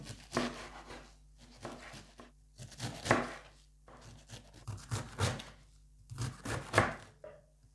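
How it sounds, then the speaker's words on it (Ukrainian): A knife chops Chinese cabbage on a board, giving repeated crisp cuts in uneven bursts, close and fairly loud, with short pauses between runs and no talking. "І гарненько нарізаємо."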